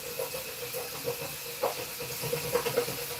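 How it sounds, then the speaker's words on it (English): Hot water rushes into a food container at a kitchen sink, a steady hissing spray with a few brief splashy surges as the container is rinsed. "Give it a hot water rinse though."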